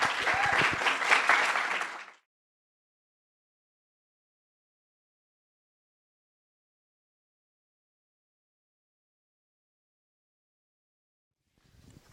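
An audience at a school presentation event breaks into applause for a group of delegates, a brief burst of clapping that cuts off into silence, with faint sound returning at the very end.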